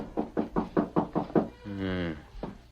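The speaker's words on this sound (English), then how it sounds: "Bevan was surprised by a rap on the door." Knocking on a ranch house door in an old radio drama, six quick evenly spaced raps, close and clear, followed by a brief buzzing sound and a short voice.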